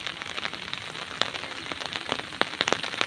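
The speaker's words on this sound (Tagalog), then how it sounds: "Buti na lang hindi malakas yung ulan." Light rain falling steadily on a surface nearby, a dense even patter dotted with sharper individual drop hits.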